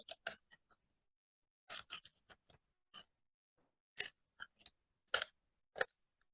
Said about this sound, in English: Now I can put my pair of scissors at the blade inside. And then we're gonna cut along the lines.